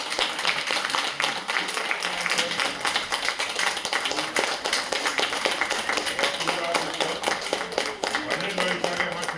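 An audience at a cooperative's annual general assembly in Dhading, Nepal, claps steadily to honour founding members, producing a dense, continuous patter of many hands that fills the room, with voices mixed faintly underneath.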